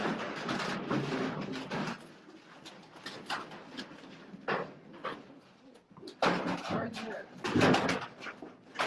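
Racing pigeons coo low and intermittently in a loft, partly buried under nearby voices talking over them and some rustling movement.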